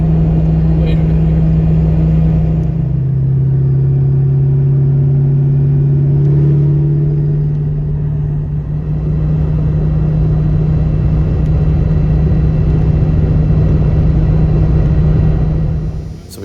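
A 2003 Ford Mustang Cobra Terminator cruises at 80 mph, a steady low engine drone with a shifting hum from inside the car, some engine tone changes partway through, and nobody talking.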